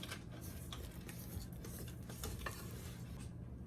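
Spatula scraping down the sides of a mixing bowl of sugar cookie dough, a steady close rasping scrape with light taps against the bowl, alone with no talking.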